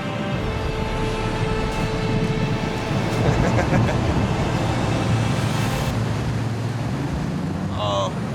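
Two 550-horsepower 8.3-litre engines push a 20-ton boat up Colorado River rapids, a loud constant roar blended with rushing water and wind throughout.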